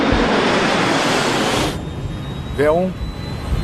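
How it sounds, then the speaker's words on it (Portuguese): A jet airliner on its takeoff roll, a loud broadband engine roar that drops sharply partway through, with a brief spoken callout over the steady rumble afterward. "A tripulação monitora a velocidade ao acelerarem pela pista."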